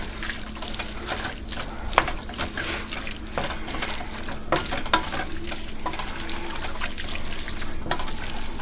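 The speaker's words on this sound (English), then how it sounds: "We're going to add in our can of tomatoes and green chilies." Canned tomatoes and green chilies going into a sizzling sloppy joe pan, with steady frying hiss, wet splashing and stirring scrapes throughout, no talking.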